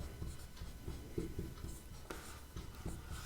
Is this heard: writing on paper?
yes